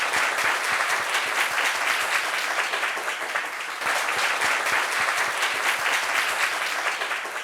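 A studio audience applauds a guest arriving on a French talk-show set, with loud, dense, continuous clapping that holds steady for several seconds and dips only briefly midway.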